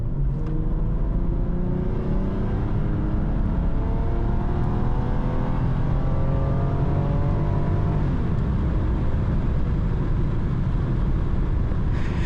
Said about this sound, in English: So let's try this acceleration thing again.